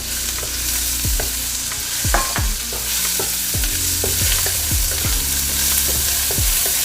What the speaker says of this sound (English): just let that saute for just a little bit